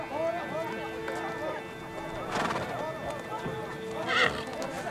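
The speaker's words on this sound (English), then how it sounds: "Horse racing at the Nadam involves several races over various distances." Horses neigh and whinny repeatedly with clip-clop hoofbeats during a Naadam horse race in Xinjiang, China, with voices talking beneath the animal calls throughout.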